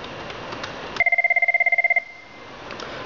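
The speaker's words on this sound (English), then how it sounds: "let's initiate a call to this phone" A Cisco 7970 SIP desk phone rings with an incoming call in an office setting, one steady electronic trill of rapid pulses lasting about a second, loud and close, then stopping.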